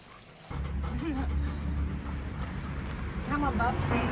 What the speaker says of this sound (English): Taylor Swift and the puppies.